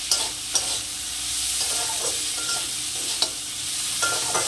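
Green banana peels fry in a pan with a steady hissing sizzle, broken by several sharp clacks and scrapes as they are stirred and tossed, close and moderately loud, no talking.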